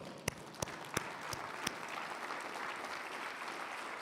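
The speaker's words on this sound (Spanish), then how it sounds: "vamos a darle un aplauso al Señor" Church congregation applauding during a Spanish-language service, starting with a few sharp separate claps and building into a steady, moderately distant wash of clapping with no talk.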